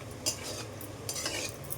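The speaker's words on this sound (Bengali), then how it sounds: "ঢাকনাটা তুলে এটা দেখি কতটা সিদ্ধ হয়েছে।" A metal lid is lifted off a cooking pot of Bengali fish curry with potato, eggplant and lentil dumplings, giving a few light metallic clinks and scrapes that sound close by and quiet.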